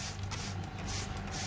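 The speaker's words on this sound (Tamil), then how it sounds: "இப்போ வந்து தண்ணி வந்து நம்ம ஸ்ப்ரே பண்ணி அடிச்சுக்கிறோம்." A spray bottle mists water onto houseplants in a family flat in Kuwait, producing soft, continuous hissy spritzes that pulse in a few bursts at a moderate level, with no talking.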